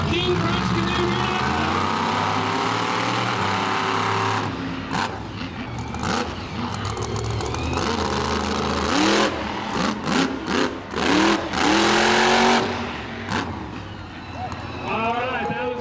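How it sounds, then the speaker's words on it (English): The King Crunch monster truck's engine roars at a show in Muskogee, Oklahoma, first a long steady drone, then a run of sharp revving bursts and pauses, with a crowd and an announcer under it. "Let's see what King Crunch can do here."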